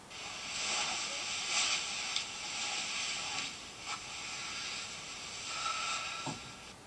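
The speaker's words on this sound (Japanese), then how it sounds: "これバイクの音だね" A motorcycle picked up overnight by a sleep-recording phone app comes through as a steady, broad hissing rumble that swells and fades slightly over several seconds, heard faintly and from a distance with no one talking.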